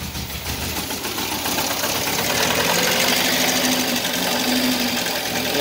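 A VW Voyage engine, started after two years parked, runs with a rough, busy mechanical clatter and a faint ticking knock, the revs swelling slightly partway through.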